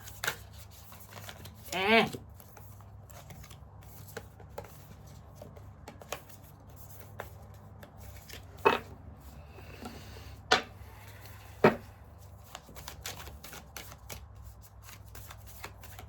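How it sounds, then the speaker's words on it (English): Soft, intermittent shuffling of tarot cards, a few sharper riffles standing out over a quiet room. "Sorry for the length of time I'm shuffling"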